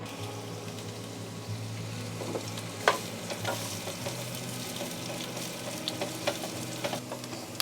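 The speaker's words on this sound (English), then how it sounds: "Now I'm going to caramelize the onions for the green bean casserole in some olive oil." Fresh onions caramelizing in olive oil in a pan give a steady close sizzle with frequent scrapes and knocks of stirring, one louder clack early on.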